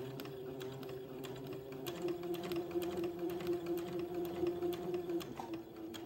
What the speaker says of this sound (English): very slowly feeding the fabric through, I'm going to sew a 1/8 inch pleat